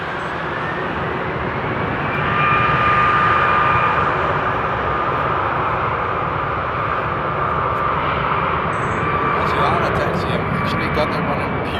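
Jet aircraft engines roar at Frankfurt Airport on a frosty morning as planes are de-iced and line up for the runway, a loud, sustained distant rumble with a faint whine that swells slightly partway through.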